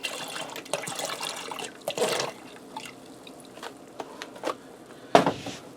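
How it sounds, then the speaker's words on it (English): A whole box of beef broth is poured into a pressure cooker, a close, steady liquid splashing and gurgling that runs throughout with a few louder glugs, no talking. "Just going to go ahead and add the whole box, and that's a total of 10 cups of beef broth."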